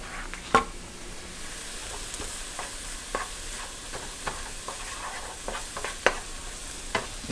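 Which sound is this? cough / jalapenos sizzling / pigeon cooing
jalapenos sizzling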